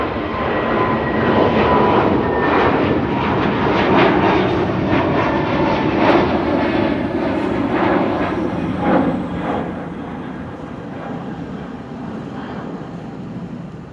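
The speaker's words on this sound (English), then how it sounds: "In the meantime, taking off. ITA to Rome, flight 107." An ITA Airways jet takes off at Amsterdam Schiphol Airport, a loud, sustained engine roar that holds steady and then slowly fades as it departs.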